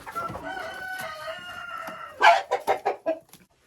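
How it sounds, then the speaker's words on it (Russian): A rooster among backyard hens fed a grain mix of corn and wheat gives a quick run of five or six loud, close clucks after a few seconds of quieter barnyard sound. "это петушок"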